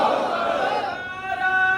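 A crowd shouting the Nara-e-Takbeer slogan in unison, a loud massed roar of voices that fades into a sustained, tonal group chant.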